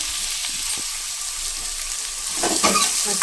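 Chopped onions frying in hot oil with cumin seeds for a red rajma curry, a steady close sizzle and hiss that grows louder and crackles more near the end as they are stirred.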